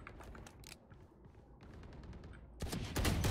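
Rapid bursts of gunfire from a shooting video game, crackling in quick volleys that build into a louder, denser barrage at the end, with no speech over it.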